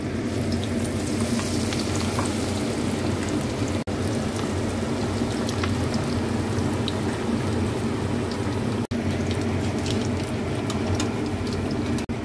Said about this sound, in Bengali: এবার আমি একটা একটা করে এই পাউরুটি স্লাইসগুলো কেটে নিচ্ছি, নিয়ে ব্যাটারে ডুবিয়ে এবার ভাজবো